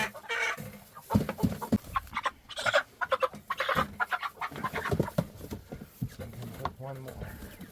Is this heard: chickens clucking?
yes